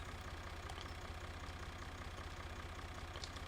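A small tractor engine idles in Farming Simulator 17, a steady low rhythmic chugging with even pulses that holds constant and fairly quiet throughout, with no voices over it.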